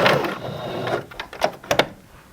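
A sewing machine backstitches elastic on a leotard, a short whirring run followed by a few quick separate mechanical clicks, close and moderately loud.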